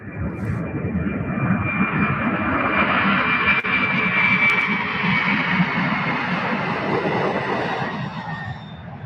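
A cargo jet at UPS Worldport in Louisville roars steadily and loudly, a broad sustained engine rumble that swells and holds across the whole stretch with no talking.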